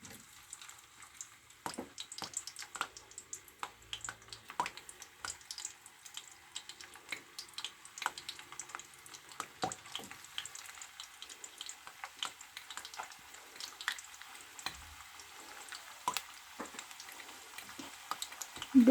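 Potato sticks deep frying in hot oil, a faint, continuous crackle and bubbling with scattered tiny pops and no voices.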